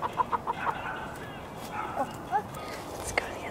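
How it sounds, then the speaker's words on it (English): Short, squeaky clucks from a rooster in quick bursts, with a few higher calls scattered through and faint background activity. "This beautiful, beautiful rooster."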